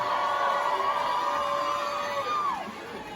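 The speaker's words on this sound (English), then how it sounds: "another round of applause for our special guest" A concert crowd cheers and applauds a special guest, a steady wash of noise with a long sustained whoop or whistle riding over it before it dips.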